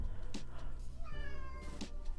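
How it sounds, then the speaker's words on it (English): A cat meows a few times close by, short plaintive cries over a low background hum. "Do y'all hear my cat meowing?"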